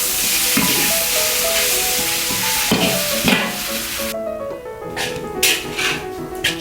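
Yaki udon noodles sizzle in a hot pan, seasoned with pepper and sesame oil, as they are tossed and stirred. Loud frying hiss comes with scraping, clanking utensil strokes up close, and the hiss drops away partway through.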